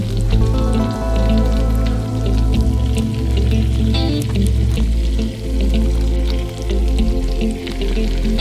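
Teriyaki sauce hits a hot pan of flame-broiled salmon over a lowered flame, giving a loud, continuous sizzle and spatter with wet bubbling and a low pulsing hum underneath.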